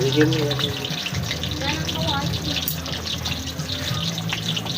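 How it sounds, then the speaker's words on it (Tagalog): Hotdogs fry in a pan at an outdoor cookout in Batangas, giving a steady hiss and sizzle while a voice talks nearby. "Piprito tayo guys ng hotdog."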